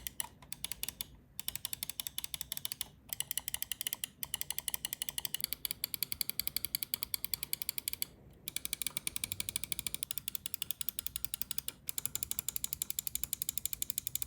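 Rapid optical switch clicks from a Glorious gaming mouse, crisp sharp ticks fired in quick bursts with short pauses between them, close and alone with no talking.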